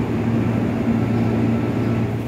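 The Pangrango train arriving at Manggarai station: a steady, loud, low mechanical drone with a constant hum underneath. It holds level throughout, with no distinct clanks or horn.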